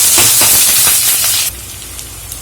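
Onion and garlic sizzle in hot oil in a pan with bay leaf, cloves and coriander, giving a loud, steady hiss that suddenly drops to a quieter crackle partway through.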